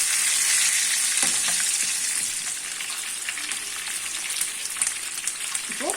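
Chicken for maqlooba sizzling and frying in a pan while being stirred, a steady close crackle with scraping stir sounds throughout and no talking.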